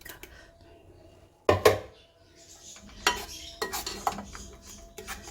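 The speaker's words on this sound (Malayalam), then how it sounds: "അരപ്പും കൂടി ഒന്ന് ഒഴിച്ച് കൊടുക്കാം." Ground coconut paste goes into a pan for sweet pachadi, with sharp metal clatters and scraping of a utensil against the pan in separate bursts and quieter gaps between them.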